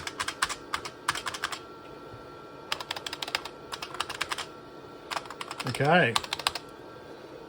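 Bursts of clicky typing on an IBM Model F keyboard, several quick runs of keystrokes with short pauses between them, close and fairly loud, with a brief voice near the end.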